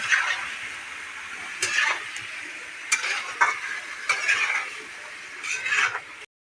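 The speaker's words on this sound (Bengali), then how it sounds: "এবার এই মশলাগুলো দিয়ে দেবো কষানোর মধ্যে" Spice paste stir-fried for a rohu fingerling fish curry, a steady close sizzle with repeated scraping strokes of a spatula in the pan, occasional louder stirring bursts, no talk.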